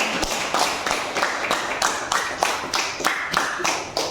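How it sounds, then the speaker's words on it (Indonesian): Students in a classroom clap for classmates, a fairly loud, close burst of hand claps falling into a loose, regular rhythm of roughly two to three claps per second. "Beri tepuk tangan untuk teman kalian"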